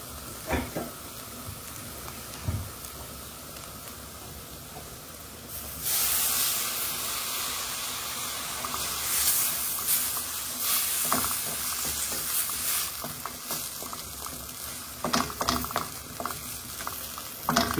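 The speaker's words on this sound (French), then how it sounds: "On rajoute un petit peu d'eau dessus." Minced meat frying in a pan bursts into a loud, hissing sizzle as a little water is poured over it, the spray rising suddenly after a quieter stretch of light frying and continuing with crackles and pops.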